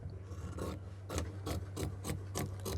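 Scissors cutting fabric for a kameez, a steady run of about eight rhythmic rasping strokes, close and moderately loud, with no talk.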